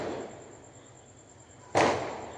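During Deepavali festivities, a firecracker goes off with a single loud, sharp bang that rings out and fades after a quieter stretch of background noise.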